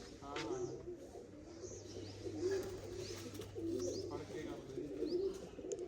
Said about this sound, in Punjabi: ਇਹ ਕਬੂਤਰੀ ਹੈ